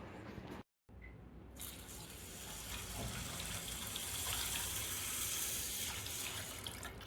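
Water runs from a tap into a vessel of Hyderabadi basmati and seeraga samba rice to soak it for biryani, a steady close gushing that builds slightly as it fills, after a brief silent gap.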